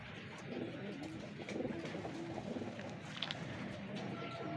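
Soft, low coos from an old pigeon, about 14 years of age, repeat over a constant background hum, fairly faint and unhurried.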